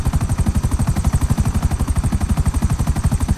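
A helicopter flies in GTA 5, its rotor making a loud, fast, steady thumping that pulses evenly throughout with no break and no voices.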